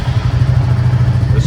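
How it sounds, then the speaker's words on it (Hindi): A Royal Enfield Bullet motorcycle idles close by after being started, a loud, steady low thumping beat with no break and no talk. "इसको स्टार्ट कर दिया मैंने, अब बुलेट पे ही जाऊँगा अभी"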